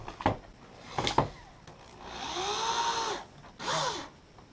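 Power drill driving small screws into a glued wooden shooting board, with short whirring bursts and spin-downs separated by pauses, close and moderately loud.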